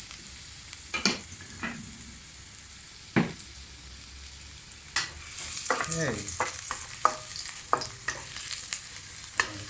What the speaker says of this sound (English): And here it's sizzling already.